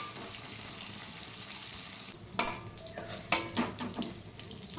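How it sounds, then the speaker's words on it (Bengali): Eggplant frying in oil in a pan, a steady soft sizzle at first, then louder clinks and scrapes of a utensil stirring against the pan, close by with no voices. "আর বেগুনটাও আগে একটু ভেজে নেব"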